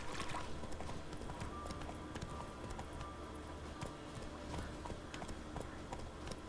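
Geralt's horse Roach gallops in The Witcher 3, a fast, steady rhythm of hoofbeats on ground, close and continuous with faint background game sound.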